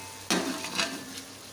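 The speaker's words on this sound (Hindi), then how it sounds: "ये सब मैं इसमें डाल दूँगी। अब इसको अच्छे से भुनाई करेंगे" Whole spices roast in oil in a pot for Peshawari chana pulao, a soft sizzle broken by several brisk scraping stirs, close and fairly quiet.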